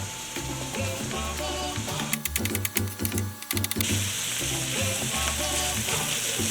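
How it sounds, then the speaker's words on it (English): Onions sautéing in a pan for tacos, a loud continuous sizzle with scraping stirs and clinks of a utensil midway before the steady frying resumes close by. "Still slowly letting these onions saute, and they're looking good"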